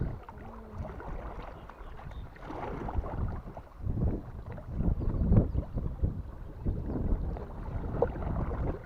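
Steady wind buffets the microphone outdoors on the Chusovaya River, with a continuous rushing roar and occasional gusts, no voices.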